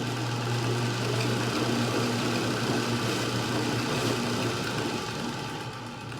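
Treadmill motor powering a worktable sawmill at low speed, a steady droning hum with a constant low tone that eases slightly toward the end.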